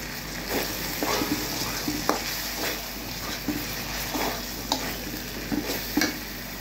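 Spice masala with green chilies frying in a pan, a steady close sizzle broken by periodic spatula scrapes as the mixture is turned.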